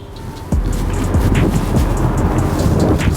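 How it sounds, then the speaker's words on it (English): Steady wind buffeting the microphone, a low continuous rumble that jumps in loudness after a brief quieter start and stays strong throughout. "It's windy."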